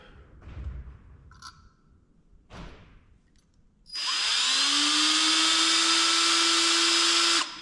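Power drill boring holes while building a custom steering column: a few faint thuds and brief handling noises, then a loud, steady whine as the drill runs continuously for several seconds before stopping.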